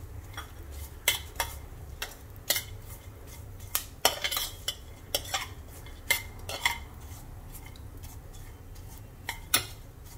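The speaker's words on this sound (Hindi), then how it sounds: "और इनमें जो हमारे सीड्स हैं इनको भी रोस्ट कर लेंगे। इसके साथ ही खसखस भी रोस्ट करेंगे साथ में।" Seeds and poppy seeds roasting dry in a pan, with a spoon or spatula clinking and scraping against the metal in irregular taps over a low steady background, fairly quiet and close, no voices.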